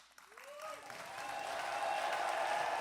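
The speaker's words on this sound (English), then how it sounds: "Applause for Theia Jobs." Applause for a startup team at a pitch competition, building from scattered claps into sustained, dense clapping across a crowd that grows steadily louder toward the end.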